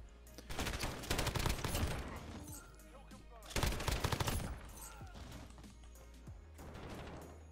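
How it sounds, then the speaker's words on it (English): Bursts of PKM light machine gun fire in Modern Warfare on a close-range map, two long rattling volleys with a pause between, loud and near, with quieter game noise after. "I'm gonna play a close range map with a light machine gun."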